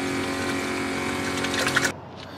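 Water streams steadily from a portable 5-gallon hand-washing station at a roadside stop, a close, even rushing flow that cuts off abruptly near the end, leaving quiet background.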